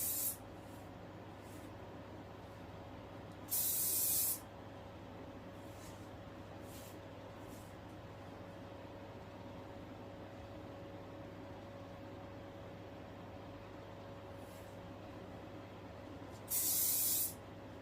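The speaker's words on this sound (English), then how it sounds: "Just give it a spray." Hairspray is sprayed onto a wig in two short, sharp hissing bursts about thirteen seconds apart, close to the microphone, over a faint steady hum.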